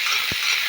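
Squash and coconut curry sizzling in a pan while it is stirred, with one short scrape of the spoon against the pan breaking through a steady frying hiss.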